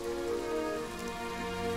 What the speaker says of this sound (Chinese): 我倒是喜欢下雨